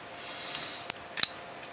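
Scissors on a Victorinox SwissTool Spirit multi-tool snip a few times: sharp, close metallic clicks spaced irregularly over a quiet background, with a quick double snap near the end.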